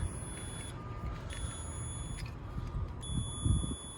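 A multimeter on continuity gives repeated high electronic tones while testing a grounded heat pump compressor, sounding in three steady beeps of about a second each, fairly faint over low background rumble.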